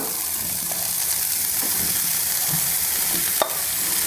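Cut beetroot tipped into a pan for beetroot pachadi, a continuous hiss and sizzle with soft stirring scrapes and a sharp clink near the end.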